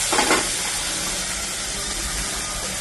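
Vegetables hiss and sizzle steadily with turmeric in a hot pan for khichdi, with a brief burst of stirring at the start, close and continuous.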